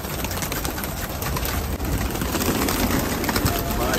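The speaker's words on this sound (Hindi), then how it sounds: "शोर कितना ज्यादा है यहाँ पर, परों का शोर है ये" A large flock of pigeons in a village loft beat their wings in a dense, steady flutter, a loud close rustling wash with faint cooing underneath.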